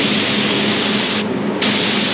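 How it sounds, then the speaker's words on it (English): Loud, continuous hiss of a spray rig spraying gelcoat over fiberglassed plywood at about 85 pounds of pressure, a steady close-up rush with a brief dip in its upper hiss midway. "we're spraying at about 85 pounds"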